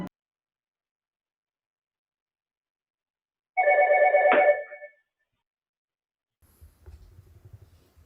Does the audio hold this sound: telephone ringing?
yes